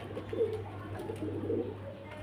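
Pigeons for sale at a Beldanga, Murshidabad loft coo softly and continuously, low burbling calls rising in two fuller swells over a steady background hum, with no one speaking.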